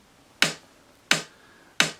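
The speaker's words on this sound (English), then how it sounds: "let me put the metronome back on" Metronome clicking the beat during a music lesson: three sharp, evenly spaced clicks, about two-thirds of a second apart, close and alone with no talk.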